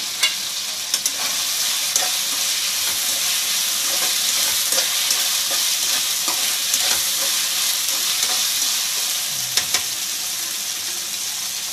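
Tomatoes frying in a pan with ginger paste for a prawn fry biryani, stirred steadily with a spoon, giving a continuous close sizzle broken by frequent scraping stir clicks, with no talk.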